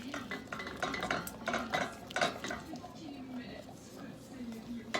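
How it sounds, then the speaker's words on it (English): A wooden spoon stirs plantain fufu into curry chicken stew in a pot, giving repeated soft scraping and knocking strokes at close range, with a voice murmuring faintly underneath. "I'm going to throw it in here and just start stirring."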